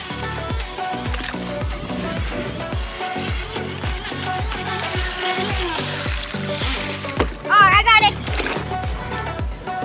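A toy drops into floodwater with a short, sharp splash near the end, amid children's chatter and a busy rhythmic background.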